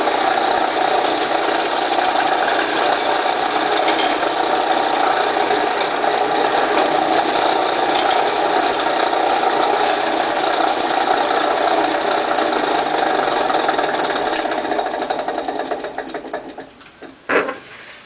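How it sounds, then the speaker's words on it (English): A steady, loud power drill whirs continuously for a long stretch, drilling a hole in the top of a Tesla coil form, then slows and stops near the end with a brief rattle. "to prepare our mold, we have to drill a hole in the top."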